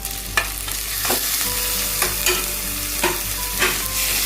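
Chicken pieces cooking in a pot for yakhni pulao, a constant loud sizzle broken by repeated spoon scrapes and knocks against the pot at regular intervals, no voices.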